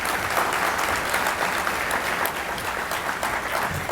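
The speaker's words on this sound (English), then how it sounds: "Josiah, let's give him a round of applause" Audience at a gala presentation applauding, a dense, steady wash of clapping hands that stays loud and even throughout, with no voices over it.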